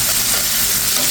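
Frozen chopped onion and garlic frying in a pan for a leafy greens dish, a steady close broadband sizzle with soft stirring throughout.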